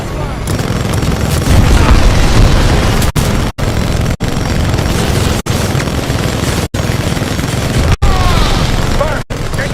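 Weapon fire and explosions in Titanfall 2, a loud, continuous barrage of booms and gunfire with short sharp dropouts, while a game voice speaks over the combat.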